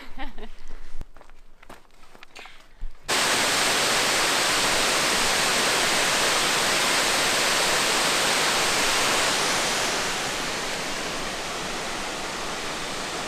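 A waterfall on North Vancouver Island in Strathcona Park roars as a loud, steady broadband rush, close and continuous, after a few seconds of footsteps and movement on the trail.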